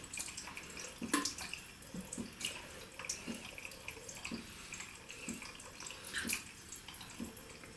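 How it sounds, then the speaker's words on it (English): Water dribbles and splashes lightly onto a puck of shaving soap in a steady run of small drips and trickles, close and fairly quiet. "So I just dribbled a bit of water"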